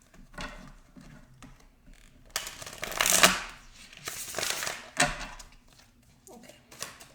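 A deck of tarot cards shuffled by hand in a quiet room, giving a few bursts of riffling and shuffling spread across the stretch, with soft handling noises in between and no talk.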